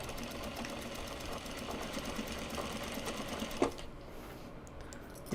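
Sewing machine chain piecing Japanese fabric bags, running in a continuous close, rapid rhythmic whir and chatter of stitching, then stopping with a sharp click and a brief pause before starting again.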